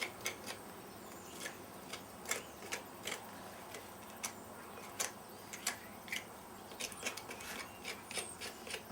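A farrier pares the sole of a horse's hoof with a hoof knife, giving repeated short scraping and rasping strokes at an irregular rhythm, close and fairly quiet, with no talk.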